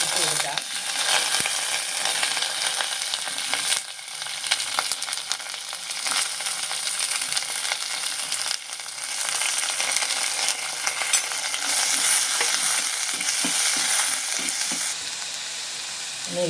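Dried red chilli pieces, curry leaves and shallots fry in hot oil for a Kerala potato curry, giving a dense, steady close sizzle with crackles and occasional stirring clinks.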